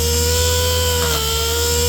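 A Rupes power polisher runs on a headlight with a steady, loud motor whine and hum, unbroken throughout.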